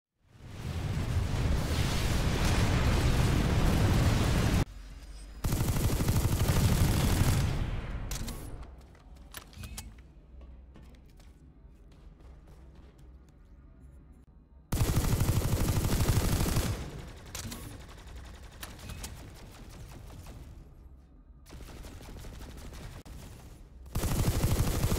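An Eridani SX5 SMG fires in the VR training room of the video game Planetside 2, with several sustained loud automatic bursts separated by quieter gaps of game ambience.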